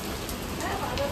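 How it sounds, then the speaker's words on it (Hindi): Steady rain falling on an Indian Independence Day, 15 August, spoiling kite flying: a continuous, even hiss of drops with a voice talking over it. "फिर दोबारा चालू हो गई है बारिश"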